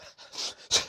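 Heavy panting breaths during a boxing workout, several rapid loud inhales and exhales close up, the last one sharpest.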